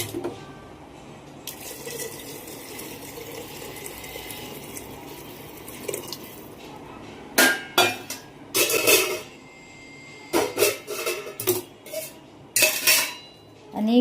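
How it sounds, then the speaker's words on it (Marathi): Hot water poured from a gas-stove pan into rice in a pressure cooker pot for chicken pulao, heard as a low background hiss followed by several loud bursts of splashing and pot clatter. "इकडे जो गरम पाणी मी करायला ठेवलेला आहे गॅसवरती, तो आता ह्या राईसमध्ये टाकून घेते"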